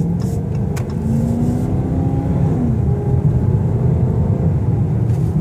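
A 2016 Dodge Charger R/T Hemi accelerating hard on a straightaway, a loud, continuous low engine roar with a climbing tone heard from the cabin, no voices.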